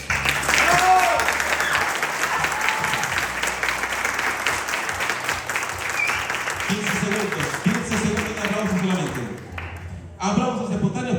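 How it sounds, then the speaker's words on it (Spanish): Audience applause at a live Bible debate event, sustained clapping from a crowd mixed with a presenter's voice talking over it, fading out near the end before a brief renewed burst. "quiero aplausos. Aplausos espontáneos para Moisés."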